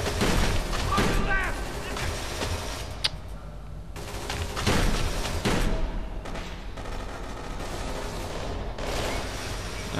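Sharp bursts of gunfire from Kane and Lynch 2: Dog Days crack out in a few loud clusters with quieter gaps between them, while someone speaks over the shooting.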